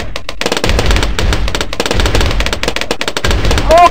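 Rapid, dense popping bursts of balloons in Bloons TD Battles fire continuously and loudly, a relentless stream of small pops, with no talking.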